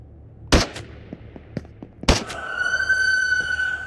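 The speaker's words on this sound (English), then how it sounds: "Oh, that was some lucky shots." Two sharp gunshots ring out in Into the Radius, a foggy VR shooter, spaced about a second and a half apart, the second followed by a sustained high ringing tone amid quieter clicks and low background ambience.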